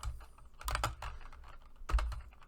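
A short run of keystrokes on a computer keyboard while coding an MQL4 message box, a few soft clicks in two small clusters, close and quiet with no talking.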